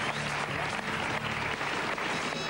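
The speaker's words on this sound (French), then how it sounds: "Je vous demande de l'applaudir." A French television studio audience applauds a guest being introduced, a continuous, even wash of clapping from many hands, heard at a moderate distance without talk.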